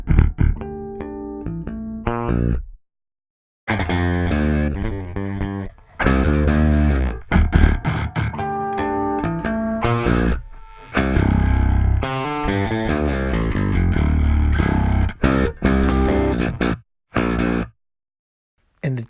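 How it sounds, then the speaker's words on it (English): Two layered bass guitar tracks play together, one heavily distorted and gritty, the other clean and fat, in punchy phrases with brief silent gaps between passages. "I have the dirty side of the distortion on one track and precise sound on the other."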